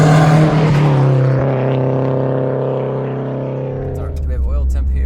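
A modified Nissan 240SX pulls away, its engine note rising and falling through the revs, loud and close, with an interior or nearby rumble as it drives off.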